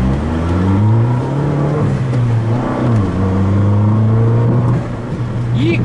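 A Fiat 500 Abarth with a 1.4-litre turbo four-cylinder engine revs while driving, its loud, close engine tone rising and falling through gear changes and steady pulls over about six seconds.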